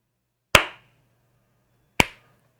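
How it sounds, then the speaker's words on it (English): Two sharp hand claps about a second and a half apart, close and crisp, each fading quickly into a quiet room with a faint low hum. "Now I just clap"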